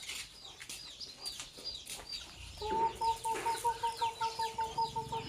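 Chickens cluck in quick repeated bursts that settle into a steady rhythm over a constant tonal hum.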